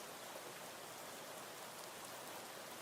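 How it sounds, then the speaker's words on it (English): Rain ambience in the video game Arena Breakout Infinite, a faint, even hiss of rainfall pattering on surfaces, steady and continuous with no voices or other sounds. "Slightly better rain audio."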